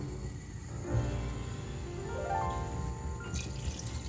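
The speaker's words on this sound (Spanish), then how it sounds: "Agregamos más agua." Water is poured into a pot for a rib broth with potatoes, a soft gurgling pour with a rising fill tone, quiet and close, with no talking.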